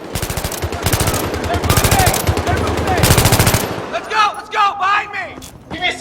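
Sustained automatic machine-gun fire in Battlefield 3, loud rapid bursts for several seconds, then someone talking over fading battle noise.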